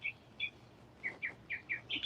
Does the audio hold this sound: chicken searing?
no